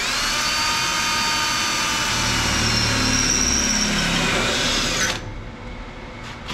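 A power drill boring a hole through car body metal on a 1964 car's passenger-side A-pillar, a steady loud high whine running for about five seconds before stopping abruptly.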